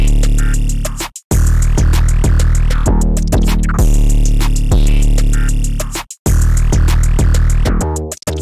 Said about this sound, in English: So all the components of the drums put together sound like this.